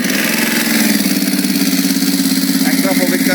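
BMW F900 GS motorcycle with a full titanium exhaust idles loudly nearby with a steady pulsing throb, while someone talks over it.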